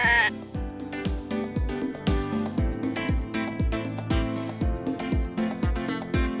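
Dorper sheep bleat repeatedly in a rough, overlapping chorus at a livestock show, the calls coming in quick succession throughout.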